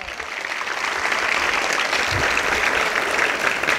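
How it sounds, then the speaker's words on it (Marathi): Audience at a Marathi public speech breaking into sustained applause, a dense, even clatter of many hands clapping that holds steady for several seconds. "हा, दणक्यात एकदा जोरदार टाळ्या वाजवा."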